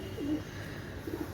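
Pakistani white golden pigeons give two soft, low coos about a second apart, faint against a quiet background with no talking.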